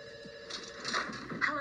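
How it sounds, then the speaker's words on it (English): A telephone bell rings in short repeated bursts, fairly faint, with a voice speaking over it. "we pick up the phone because it's ringing"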